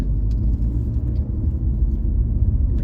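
An old car drives along on a sunny day in Texas, its low engine rumble and road noise steady and close from the inside, with a couple of faint clicks over the drone.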